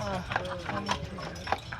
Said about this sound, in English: Those are those bigger horses that pull those big green carriages.